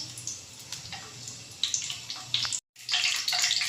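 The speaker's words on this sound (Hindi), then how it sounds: "आधा सेकेंड इसको हम फ्राई करेंगे ऑयल के अंदर" Dried red chillies fry in hot oil for a chicken karahi, giving a close, steady hiss and sizzle with a few sharper crackles that swell louder near the end after a brief cutout.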